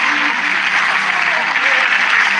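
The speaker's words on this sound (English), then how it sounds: "give God a round of applause tonight" A church congregation claps in a loud, even, continuous burst of applause, with a faint voice or tone just audible beneath the clapping.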